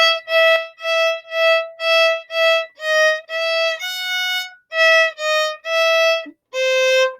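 A solo violin plays a phrase with the low F natural fingered too high rather than shifted back, so that note comes out off-pitch amid a run of short, close, bowed notes, with no talking.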